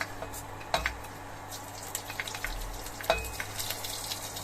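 Whole coriander seeds and a bay leaf frying in a spoonful of oil in a kadai, a soft continuous sizzle with a few sharp pops and crackles, close and with no voices.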